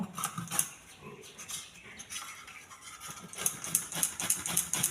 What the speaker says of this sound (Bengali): জিরে জিরে করে আমি ঘষে নিচ্ছি